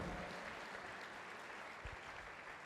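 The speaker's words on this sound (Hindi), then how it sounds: "ताली बजाकर तारीफ करो खुदावंद की" A church congregation claps in praise during a Christian worship service, a faint, sustained wash of many hands with no voices on top.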